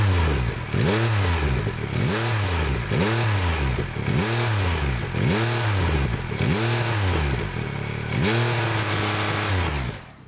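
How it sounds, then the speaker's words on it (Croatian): A Yamaha MT-09 Y-AMT motorcycle on its stock exhaust during break-in, blipped to about 5000 rpm about seven times in a row. Each rise and fall is loud and close, with a brief settle between revs. "Ajde da stisnemo gas pa da vidimo kako se čuje sa fabričkim izduvom do 5000 obrtaja"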